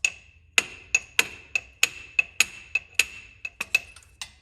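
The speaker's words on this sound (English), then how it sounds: "Just nice steady hits, and you can hit that off." A hammer strikes rear brake parts on a GMC RV, about a dozen sharp metallic hits in a steady rhythm with ringing decays, close and loud with no talk.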